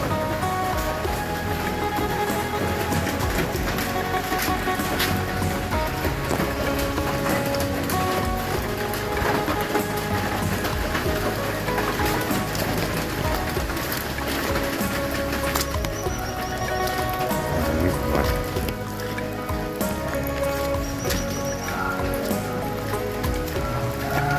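Steady rain falls during an outdoor temple festival at Wat Phou Mak Xang in Laos, a dense, unbroken patter that fills the whole stretch at an even, moderately loud level.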